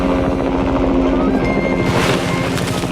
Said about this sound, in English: Helicopter, we're ready for more.